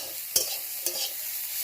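Potatoes and taro fry in oil with dry chili and black cumin, a steady sizzle with two sharp scrapes of a spoon stirring the pan close by.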